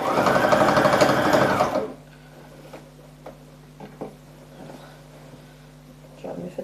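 A sewing machine stitches a dress seam in a fast, steady whirring run for about two seconds, then stops, leaving faint handling clicks and rustles.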